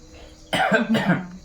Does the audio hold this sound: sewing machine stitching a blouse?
no